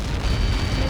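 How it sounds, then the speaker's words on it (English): A huge explosion impact from Helios projectiles in the video game Ace Combat 7, a dense, sustained low rumbling roar that fills the whole second loudly with no break. "How many got caught in that explosion?"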